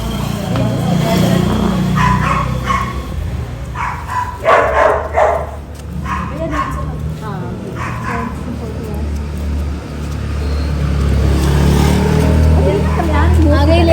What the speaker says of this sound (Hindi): इनको यहाँ पे बांधा हुआ है और ये कितना भौंक रही है।